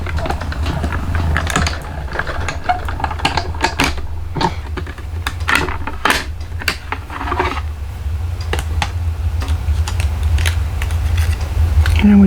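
A hand-cranked die-cutting machine rolls a cutting plate through for a card, giving steady mechanical grinding with irregular clicks and clacks throughout, loud and close, with no talking.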